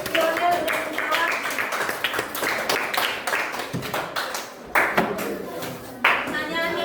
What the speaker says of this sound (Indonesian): Oke, tepuk tangan dulu untuk si Lionel dan kawan.